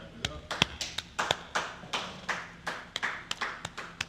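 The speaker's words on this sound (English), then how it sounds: "clap it up" Hands clapping in a steady, fairly quick rhythm of about a dozen claps, close and moderately loud, at a street gathering of the Israelite School of Universal Practical Knowledge on West 125th Street.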